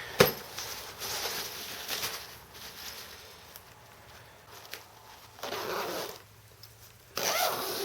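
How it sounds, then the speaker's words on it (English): A zipper is run around a Sleepy Pod pet bed car seat in several close, raspy pulls, separated by brief pauses and soft fabric handling. "Zip it all the way around."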